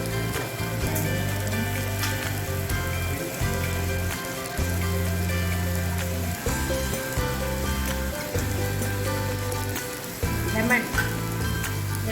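Mutton pieces sizzle and hiss steadily as they are stirred through thick masala in a hot pan for a mutton biryani, a continuous close frying sound with soft tonal music running underneath.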